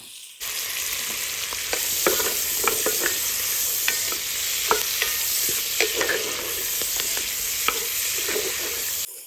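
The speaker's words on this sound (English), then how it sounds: "we make sure we kind of scrape the bottom of our pan while we're doing those onions" Onions for an Irish stew fry in a one-pot pan with a bright constant sizzle, while a spoon scrapes the pan bottom in frequent short clicks and strokes, close and unaccompanied by voices.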